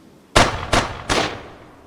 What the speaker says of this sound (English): Raising their muskets, they fire a sharp volley toward the shore.